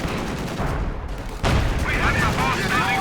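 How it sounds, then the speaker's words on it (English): Field guns bombarding in Company of Heroes 2 make a dense, rumbling barrage of booms that grows louder midway, with a constant roar of battle and some whistling tones on top. "Field guns bombarding."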